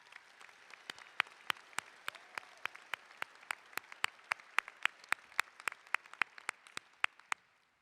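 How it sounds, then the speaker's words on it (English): Applause from a commencement audience, heard as a steady patter of hands with a few sharp, evenly spaced claps standing out, fairly distant and soft before tapering away. "let us applaud again her excellent work"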